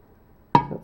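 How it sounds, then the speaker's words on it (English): A glass plate set face down onto glass gives two sharp, close clinks with a brief ringing tone, about a third of a second apart, after near silence. "I'm going to put the glass plate facing down"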